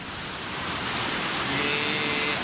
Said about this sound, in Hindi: ये आ रहा है अबशार का पानी